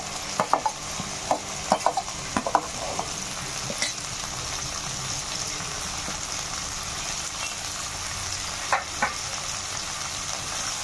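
Ginger garlic paste and broad beans frying in a pan for a brinjal tomato curry give a steady low sizzle, with occasional sharp clinks of a spoon stirring against the pan.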